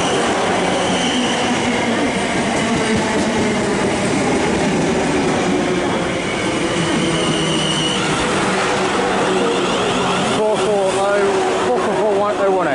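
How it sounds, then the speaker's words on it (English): South Western Railway class 444 electric train, a 10-car service, arriving at Southampton Airport Parkway station: loud continuous rumble of wheels and traction with squealing and clattering as it slows, and a voice heard over it. "arriving now is the 1443 Southwestern Railway service to Brockenhurst, 444024."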